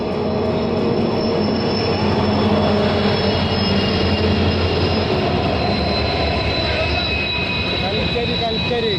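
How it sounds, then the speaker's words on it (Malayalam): An empty coal freight train on the Konkan Railway rolls past at close range, a loud, continuous metallic rumble with sustained wheel squeal and grinding tones that holds steady throughout, while a voice speaks faintly over it. "കൽക്കരി ലോഡ് കൊണ്ടുപോണ ട്രെയിനാണ് ഈ പോണത് കേട്ടോ"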